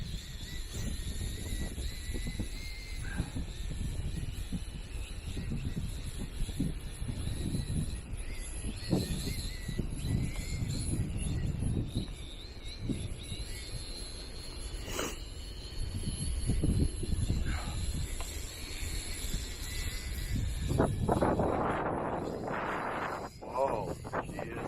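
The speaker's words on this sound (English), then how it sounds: "Very, very windy." Strong wind buffets the microphone in continuous low rumbling gusts, with brief voices under the roar.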